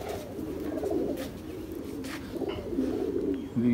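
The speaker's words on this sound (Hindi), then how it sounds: "ये मेरा कबूतर है माशाल्लाह, चीनी।" A Chinese-breed pigeon coos close by, making soft, low, repeated throaty rolls in two or three bursts against a quiet room.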